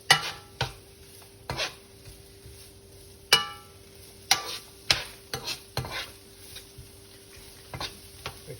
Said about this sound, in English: So we'll soon start to hear that sizzle.